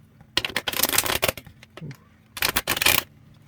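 A deck of tarot cards is shuffled in quick riffling bursts, one long flurry followed by a shorter one after a brief pause, close and crisp with no talking.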